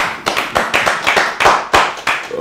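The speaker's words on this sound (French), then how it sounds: "Applaudissez pour Adam." Close, loud hand claps ring out at an African music and entertainment show, about a dozen sharp, uneven slaps with gaps between them rather than a steady roar.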